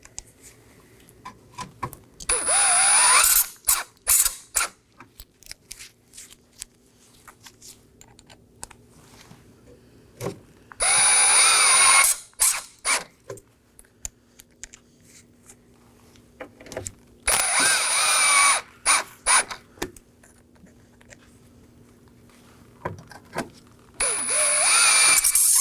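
A power drill drives six T15 Torx screws into the grille of a 2018-2024 Chevrolet Equinox 1.5L, in several loud, close bursts of whirring separated by quiet handling noises.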